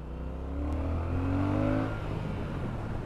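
A car engine pulls hard under acceleration, a loud, steady drone that swells and climbs in pitch before levelling off, with no one talking over it.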